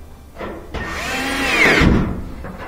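A power drill tightens screws on a gas dryer during a repair, with a loud, close whirring burst that rises and strains as the screw seats, then stops.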